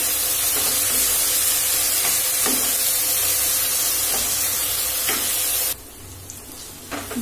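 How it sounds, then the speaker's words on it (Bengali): Prawns sizzle and spit in a hot pan while being stirred, a steady broadband frying hiss with occasional scrapes, loud and close throughout before dropping away near the end. "আমি চিংড়ি মাছটা দিয়ে দিচ্ছি। ভালো করে কষাতে হবে।"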